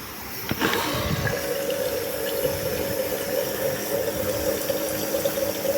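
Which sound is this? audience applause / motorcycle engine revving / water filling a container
water filling a container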